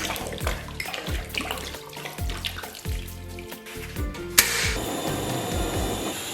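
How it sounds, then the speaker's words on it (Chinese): Tap water runs into a cooking pot holding pork for braising, a busy splashing gush with clattering knocks against the pot, then a brighter, steadier stream near the end. "给锅里边来点82年自来水"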